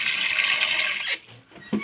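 Water runs into a pot for boiling sweet potatoes in a home kitchen, a steady splashing pour for about a second that then cuts off, followed by a brief clunk.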